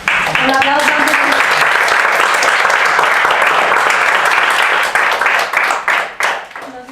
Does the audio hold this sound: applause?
yes